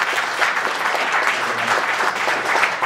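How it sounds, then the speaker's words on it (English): Steady, dense applause from an audience at a business event on war and business in Ukraine, following speaker Vitaly; many hands clapping evenly throughout at a fairly loud, even level with no talk over it. "A round of applause."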